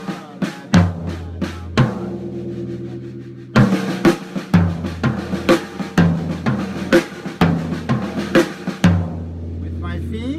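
A Gretsch Broadkaster drum kit is played with the hands only in a 3/4 pattern. Close, punchy drum and cymbal hits repeat with a brief pause partway through.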